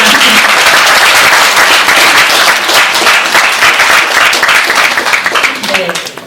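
A crowd at a Korean commemorative ceremony for An Jung-geun applauds warmly as a guest arrives, loud continuous clapping that thins and fades near the end.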